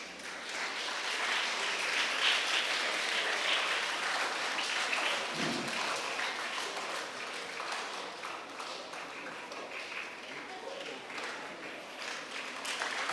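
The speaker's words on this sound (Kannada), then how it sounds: "ಜೋರಾದ ಚಪ್ಪಾಳೆ" Loud, sustained applause from a college audience at a Kargil Vijay Diwas celebration honouring a soldier, a dense wash of many hands clapping steadily throughout with no voices on top.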